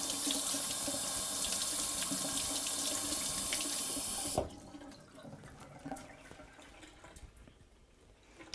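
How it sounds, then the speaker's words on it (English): A kitchen tap runs steadily while sorrel leaves are rinsed under it. The flow cuts off abruptly about halfway through, leaving faint drips and small handling sounds. "the running water does a lot of the work for you."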